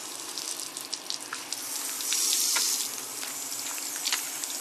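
A garden hose sprays water at fine pressure over a fishing rod and reel in a continuous hissing rush, steady and fairly close, with slight surges in intensity.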